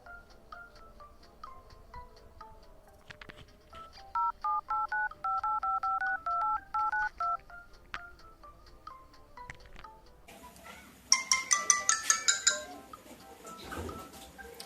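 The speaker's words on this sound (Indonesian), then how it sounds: "Coba deh aku telepon Arifah." A phone call is dialled with a run of quick, evenly spaced keypad tones, followed after a pause by a louder burst of rapid trilling electronic ringing, with light clinks in the quiet background.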